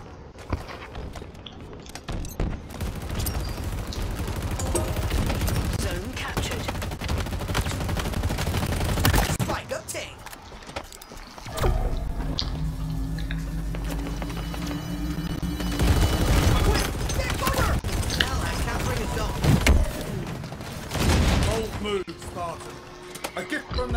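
Gunfire in the Halo Infinite video game, sustained loud bursts of automatic fire and explosions with game voice announcements over continuous battle noise, briefly dropping off before resuming.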